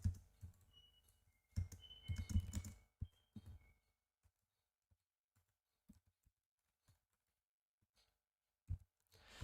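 Computer keyboard typing code, bursts of rapid close key clatter at the start, then sparse isolated keystrokes spread across a quiet stretch, with another short burst at the end.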